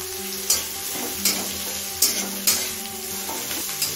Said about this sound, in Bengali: পেঁয়াজটা হালকা লাল হয়ে আসা পর্যন্ত ভেজে নেব।